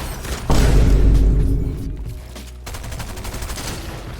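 SMG fire in Fortnite, a loud, close burst of rapid shots with a heavy low boom, trailing off into quieter scattered game noise.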